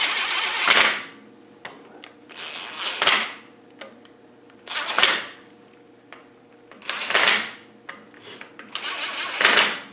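Pneumatic impact gun driving bolts during axle refitting, several loud bursts of hammering rattle separated by short pauses, close by and with no talk over them.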